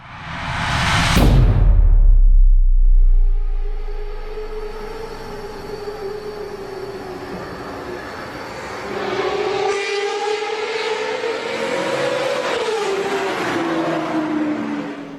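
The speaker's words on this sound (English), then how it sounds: "That's the sound of the first Mercedes S600 that got that high-pitched F1 sound with aftermarket headers" A loud engine blast fades, then a high-pitched, smooth exhaust note from a Mercedes S600 V12 with aftermarket equal-length headers rises and falls as the car revs, alone without talk.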